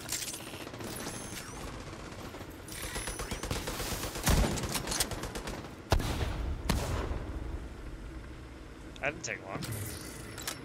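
Sustained gunfire from turrets and player weapons in The Division 2 shooter game, a dense, continuous clatter of rapid shots with occasional heavier bursts, loud and busy throughout, with voices talking over it.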